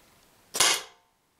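A Tippmann TCR paintball marker fires a single sharp, close shot, a crisp pop with a brief hissing tail that fades within half a second.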